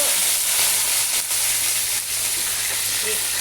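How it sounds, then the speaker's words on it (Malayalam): Curry leaves fry in hot oil just after mustard seeds have popped, for a rambutan pickle, giving a steady, loud, close sizzle with a few brief crackles that carries unbroken throughout. "കടുക് പൊട്ടി, കരിവേപ്പില ഇട്ടു"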